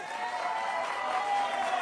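Steady applause from a crowd at a comedy mimicry show, a dense continuous patter of clapping with no pauses.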